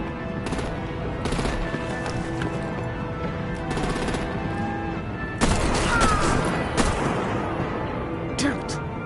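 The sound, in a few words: gunfire from Batman: The Enemy Within video game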